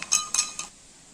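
A spoon mixing a paste with water clinks against a metal tumbler three times in quick succession, close and bright, then goes quiet.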